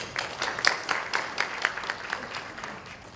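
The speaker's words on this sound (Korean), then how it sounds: "큰 박수로 부탁드리겠습니다." Audience applause at a marketing automation seminar, a steady wash of many hands clapping for about three seconds, moderately loud with scattered sharper claps standing out.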